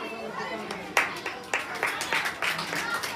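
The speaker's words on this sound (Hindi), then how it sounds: "एक जोरदार ताली बजाइए।" A crowd claps after a speech at a 15 August 2023 Independence Day cultural programme, a short stretch of steady applause with sharper individual claps standing out over murmuring voices.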